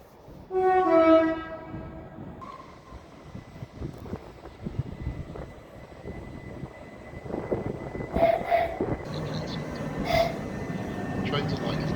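Train horns and whistles sound in sequence: a loud sustained multi-tone horn blast early on, then rumbling rail noise and further whistle and horn blasts from passing trains, some nearer and some more distant.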